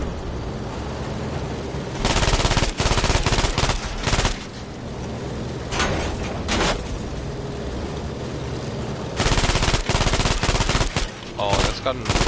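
In Battlefield V, machine gun fire crackles in loud bursts separated by quieter stretches of game ambience, with a long final burst and a shorter one near the end. No one speaks over it.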